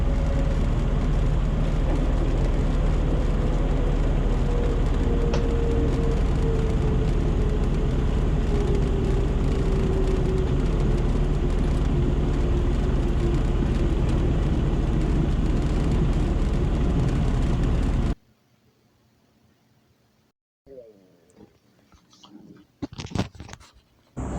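A light aircraft taxis along a runway with a loud, constant engine drone and a slowly falling tone for about eighteen seconds, then cuts to near quiet with a few scattered knocks and rustles.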